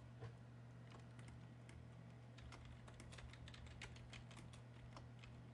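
Quick, even keystrokes on a computer keyboard, a continuous patter of light clicks heard faintly and close over a steady low hum.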